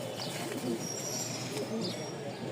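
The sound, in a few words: Shua Chandan pigeon cooing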